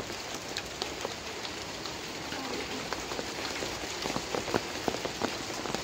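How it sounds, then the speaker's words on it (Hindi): Rain falls on a surface outside a British-style house in Kobe's Kitano Ijinkan district, a steady soft patter with scattered heavier drops, faint and even throughout. "ये देखो, अभी बारिश होना था इसको."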